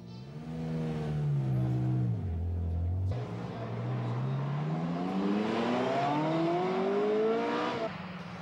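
Ferrari F355 with its 3.5 litre V8 engine revving hard, pitch dropping as the car shifts, then climbing steadily through a long, loud acceleration before cutting off near the end.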